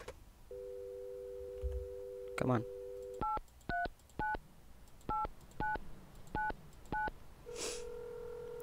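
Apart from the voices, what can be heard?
telephone busy signal and dialing in Mon Bazou video game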